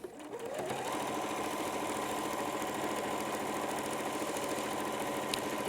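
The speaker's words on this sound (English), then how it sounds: "And I sew along the seam." A sewing machine runs steadily along the seam of fabric for a drawstring bag, a close, continuous rapid stitching hum that starts quickly and holds an even pace throughout.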